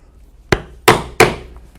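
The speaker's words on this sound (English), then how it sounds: "And now we will punch holes for the rivets" A 1/8 inch hand punch is struck into a leather belt to make rivet holes: three sharp, close mallet blows, the first lighter, the next two loud, each with a short ringing decay.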